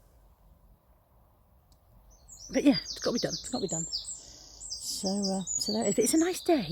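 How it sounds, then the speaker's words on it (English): Birds sing and chirp outdoors on a fine day, bright high calls rising behind a nearby voice talking. "There's a bird yelling its head off behind me."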